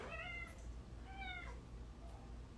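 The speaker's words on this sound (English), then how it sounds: "Hold on, my cat's gonna come inside." A house cat meows twice from close by, two drawn-out plaintive calls about a second apart over a steady low room hum, with no talking.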